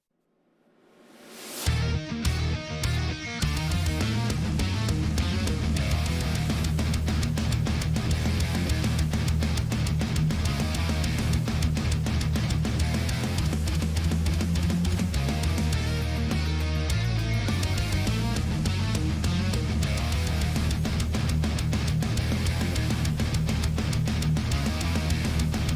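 A heavy metal track plays with a dense, distorted Kiesel guitar tone through the HyperRig plugin, driving drums and bass, fading in briefly and then roaring at full loudness throughout.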